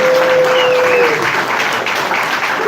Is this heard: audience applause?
yes